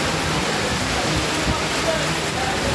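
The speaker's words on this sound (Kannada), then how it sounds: "ಇಂದು ರಾತ್ರಿ ಬೆಂಗಳೂರಿನ ವಿವಿಧ ಭಾಗಗಳಲ್ಲಿ ಭಾರೀ ಮಳೆ ಸುರಿಯುತ್ತಿದೆ" Heavy night rain pours down across Bengaluru in a dense, steady hiss with no break, loud and close.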